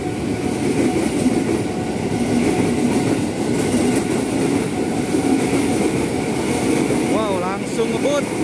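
A KRL JR205 electric commuter train pulls out of Kramat station, its steady wheel rumble and rail clatter filling the platform, with a brief high wheel squeal near the end.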